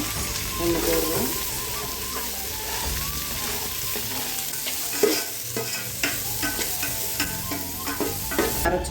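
Large onion with mint and coriander leaves frying in oil in a pan for a country-style chicken curry, a continuous sizzle crossed by repeated spoon stirring and scraping, close and fairly loud.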